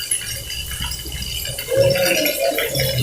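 Water sprays steadily from a shower head fed by a booster pump, a continuous strong hiss with a slight rise in force partway through.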